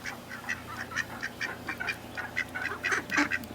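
Several ducklings and a mother duck in a backyard setting give a steady stream of soft, high peeping calls close by, with an occasional louder note standing out.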